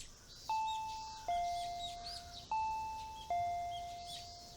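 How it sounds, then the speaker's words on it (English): Two-tone ding-dong doorbell in Higurashi, rung twice in quick succession, each chime a clear higher note dropping to a lower one that rings out and decays, with faint chirps behind. "I heard the doorbell ringing."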